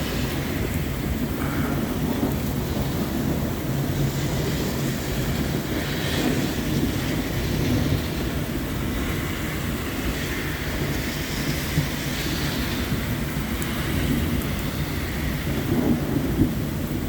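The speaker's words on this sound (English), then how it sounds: "You can't top Mother Nature for ground thumping thunder." Deep thunder rumbles through a rainstorm, a broad continuous roar of rain and distant storm noise holding steady for the whole stretch, with faint swelling rolls and no talking.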